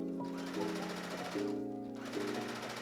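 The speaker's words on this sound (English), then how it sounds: "And then I'm just going to sew this triangle in here." A sewing machine stitches a triangular dart into fabric from a bedsheet, a steady mechanical whirr with shifting pitch under a constant background hum.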